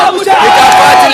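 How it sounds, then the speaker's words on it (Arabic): A large crowd of Iraqi fans chants and cheers loudly in celebration of winning the Gulf Cup, a dense, sustained roar of voices close around. "هتافات العراقيين مستمرين بفرحة الفوز"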